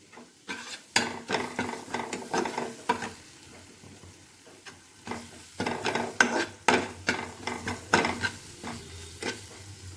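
Ground spices such as red chilli, cumin and coriander powder with a little sugar frying in a pan for a prawn do-piaja, heard as close, rhythmic stirring scrapes and bursts of sizzle alone throughout.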